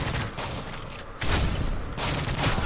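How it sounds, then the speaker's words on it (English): Gunfire from a teammate in Call of Duty: Modern Warfare 3, in three loud, close bursts of rapid shots, each separated by a brief lull. "My own teammate just decided to fucking shoot at me."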